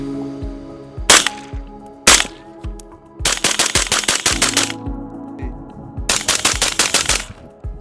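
Rifle shots fired through a Dead Air Lazarus 6 suppressor outdoors: two single loud reports, then two rapid strings of fast repeated shots with sharp cracks, with brief gaps between them.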